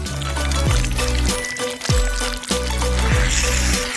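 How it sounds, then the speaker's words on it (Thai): Chocolate syrup is poured over vegetable-flavored ice cream, making a loud, close, gurgling pour with repeated glugging surges and no talk. "ด้วยน้ำเชื่อมช็อกโกแลต"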